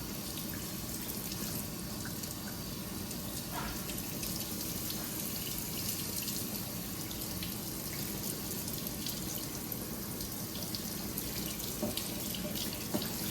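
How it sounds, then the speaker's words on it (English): A water hose rinses a dusty K&N engine air filter from a 2018 Silverado 5.3, producing a steady, close, continuous spray and splash that runs without pause or talk throughout. "may actually be easier to do with a water hose"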